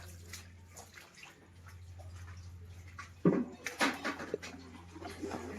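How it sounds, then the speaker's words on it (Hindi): People in a darkened Mumbai chawl fill containers with running water before dawn: a low steady hum and trickle, then louder splashing and clattering bursts near the end, with a dog panting faintly. "सब लोग देखिए कैसे पानी भर रहे हैं"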